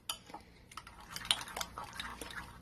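Spoon scraping and clinking against a bowl while mayonnaise and crushed peaches are stirred together, a steady run of soft, close scrapes and light taps with no talking.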